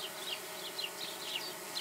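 A honeybee swarm buzzing around a bee box: a steady, dense hum of many wings with individual bees droning past at close range, no voices.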